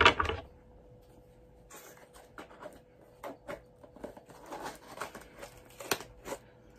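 Package being opened with scissors: intermittent snips, crinkles and rustles at close range, scattered irregularly over several seconds at low volume.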